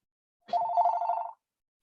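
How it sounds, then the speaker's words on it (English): A house telephone rings once in a single sustained electronic trill, clear and fairly near, alone with no talk around it. "Sorry, that's a house phone."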